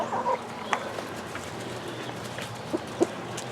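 A few soft, scattered clucks from chickens, fairly faint against a quiet outdoor background hiss.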